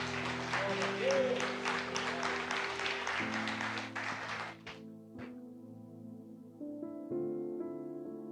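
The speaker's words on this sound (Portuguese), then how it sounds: "As palmas louvam ao nosso Deus." A church congregation claps together in steady, dense applause during a worship service, with sustained organ or keyboard chords underneath, then the clapping stops and the music carries on alone.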